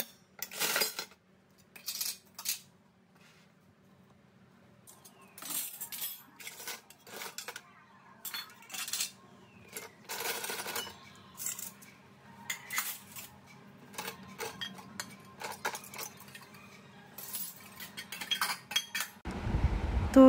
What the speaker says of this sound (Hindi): तो ये सिंक में थोड़े से बर्तन पड़े हैं.